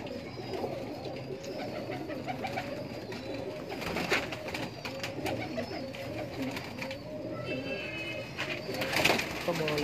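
Many breeder pigeons in a Lahore loft coo steadily in a dense, continuous chorus close by, with a voice talking intermittently over the birds.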